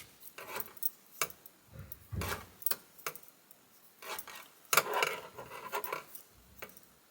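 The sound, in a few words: knitting needles clicking on wood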